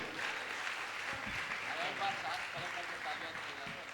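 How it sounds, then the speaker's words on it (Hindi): An audience at a Jain religious gathering in Gunayatan, Jharkhand claps in sustained applause, a dense, even patter of many hands, moderately distant and fairly quiet, running continuously with a voice faintly over it. "लगातार तो आपकी तालियां अनवरत जारी रहना चाहिए"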